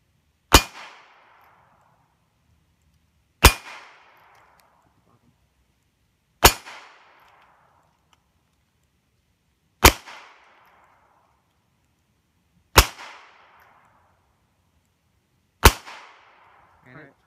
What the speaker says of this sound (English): this is 22 long rifle, they all splatted when they hit the metal